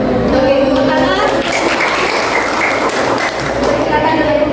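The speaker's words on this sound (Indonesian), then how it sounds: "Oke, tepuk tangan." A classroom of students claps together during a lesson, a steady wash of many hands clapping with children's voices and some movement mixed in, moderately loud and continuous.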